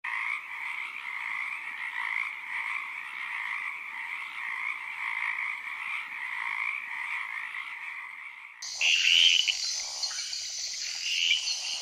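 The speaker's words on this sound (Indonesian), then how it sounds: "Katak terbang hijau termasuk nokturnal, alias aktif di malam hari." A green flying frog croaking at night, a steady, loud, buzzing chorus that runs on unbroken, then shifts to sharper, higher calls near the end, with no voices.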